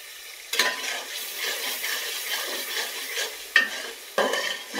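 Spices frying in oil in a pan for a chicken and snake gourd curry, a steady close sizzle with stirring scrapes and a few sharper bursts of spatter.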